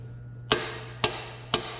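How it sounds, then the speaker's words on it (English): A soft hammer taps a stuck lathe bushing to knock it free: three evenly spaced, sharp knocks about half a second apart over a low steady hum, close and fairly quiet. "Let me get a soft hammer."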